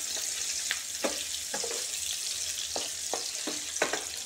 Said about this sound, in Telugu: లైట్గా ఫ్రై చేసుకుని జాగ్రత్తగా చేసుకోవాలన్నమాట.